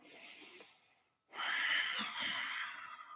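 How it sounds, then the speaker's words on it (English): Long, deep breaths during a kundalini yoga practice, an inhale that fades into a brief pause followed by a longer, strong airy exhale, close and alone. "Long, deep breathing here."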